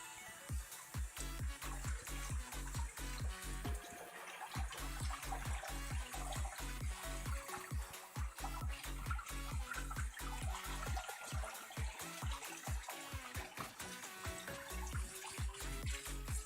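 Water runs and splashes in a home kitchen, a steady gurgling stream with uneven pulsing splashes, fairly faint and continuous.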